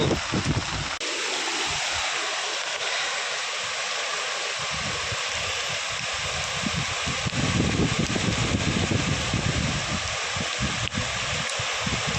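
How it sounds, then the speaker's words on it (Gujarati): Loud, constant rush of a fast-flowing village river swollen by heavy rain, close and roaring without pause, with faint voices under it. "પાણી કેવું જાય જોવો તો ખરા પણ અરે ખેંચીને પાણી જાય"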